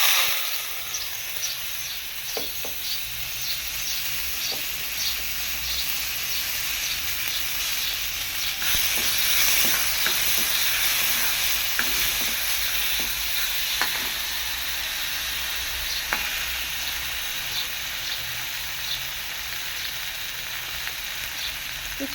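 Lentils (dal) frying in hot oil with cumin seeds in a kadai, a steady close sizzle and hiss with occasional scraping stirs and small pops throughout, no talk.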